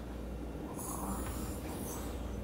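A child imitates snoring with a short, breathy, snorting exhale that rasps briefly in the middle, fairly quiet and close, with no talk over it.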